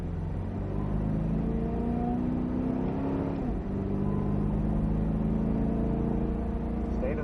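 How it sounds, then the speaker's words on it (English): A Cadillac CTS-V Coupe builds speed uphill on a race circuit, its engine note rising steadily under a constant loud cabin rumble, with a brief dip at a gear change before the climb resumes. "start squeezing on some power and start building speed up the hill"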